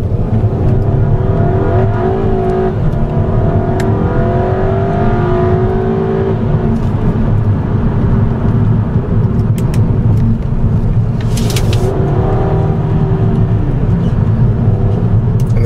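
A VW Eos hard-top convertible drives briskly with its small engine pulling hard, revs rising steadily through several gears with automatic shifts, a loud continuous interior drone and road noise, no talking.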